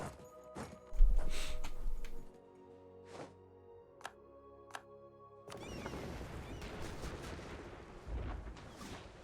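Cannon fire in the Europa Universalis IV strategy game: scattered sharp booms and crackling shots over a sustained din of combat, with a dense rumbling clash swelling in the latter part.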